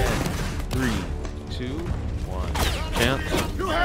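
Rapid gunfire in a competitive online shooter match, bursts crackling over a dense wash of game noise while players talk over it.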